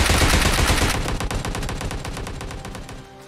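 Shotgun fire in a video game: a loud close blast that fills the sound, followed by a rapid rattling burst of shots that slowly fades out.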